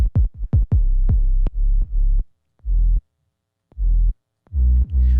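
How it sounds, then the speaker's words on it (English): Punchy 808 bass hits from a remake of a track, layered dubstep-style, playing alone in a stuttering rhythm of short deep booms followed by longer sustained notes with brief silent gaps. "let's talk about this 808. It sounds like this."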